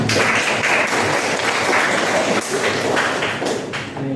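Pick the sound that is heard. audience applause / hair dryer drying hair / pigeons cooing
audience applause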